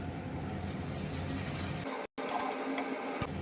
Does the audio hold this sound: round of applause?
no